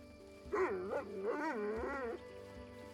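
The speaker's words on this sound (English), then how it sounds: "Oh, those are good dog noises." A dog in the video game Pathfinder: Kingmaker gives a few close, rising and falling whining yips and bark-like vocalizations, several short bursts in a row with no talking.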